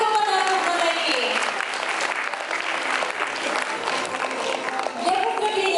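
A hall audience claps steadily at a school lyceum's anniversary celebration, loud and continuous applause filling the room, with faint voices or music mixed in at the start and end.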